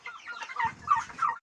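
A farmyard turkey clucks in three short, soft bursts close by, with no speech over it.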